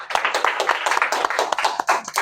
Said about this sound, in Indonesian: Beri tepuk tangan dong untuk kelompok 2.